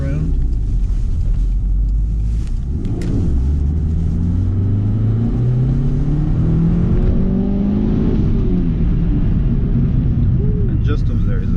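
A 1998 Mitsubishi Lancer EVO5 driven around in Japan, its engine rumbling loudly and rising in pitch as it accelerates through the gears, with road noise throughout and voices talking over it.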